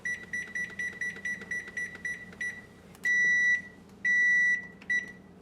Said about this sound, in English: and set a 10-minute timer.